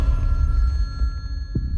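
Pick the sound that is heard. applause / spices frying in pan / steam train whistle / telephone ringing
telephone ringing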